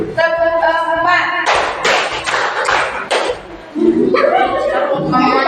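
A group claps hands in a counted rhythm, a quick run of sharp, evenly spaced claps in the middle, with a leader's voice calling before and after.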